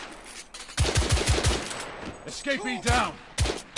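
Rifle gunfire from The Order: 1886, a Victorian-era shooter: a rapid series of sharp, loud shots in the first second and a half, then more bursts mixed with other game effects while a voice speaks briefly.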